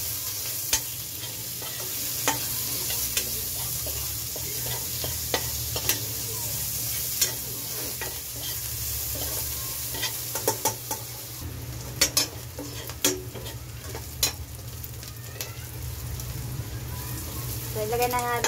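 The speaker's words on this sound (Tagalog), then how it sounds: "Ilagay na rin natin guys yung ating sibuyas." Onion frying in a pan with garlic, a steady loud sizzle under repeated scraping stirs and occasional clinks of the utensil against the pan, close up throughout.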